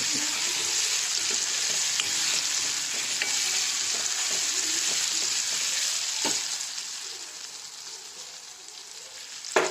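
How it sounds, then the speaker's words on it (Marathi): Chutney ingredients roasting in oil in a pan, sizzling continuously up close with occasional stirring scrapes and clicks, no talking. "आता हे भाजत चाललंय"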